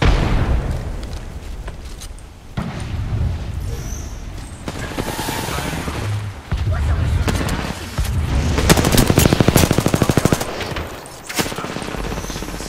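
Frag grenade blast and rapid gunfire in ranked Apex Legends Season 15, with bursts of automatic fire and booms layered throughout, loud and dense, building to a heavy volley near the end.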